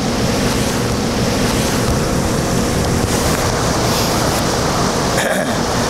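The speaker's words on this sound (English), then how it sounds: "we're going to have to motor for 6 hours to get back." A sailboat motoring across a flat calm sea with zero wind, steady engine drone and water wash running continuously beneath wind buffeting on the microphone, close and loud throughout.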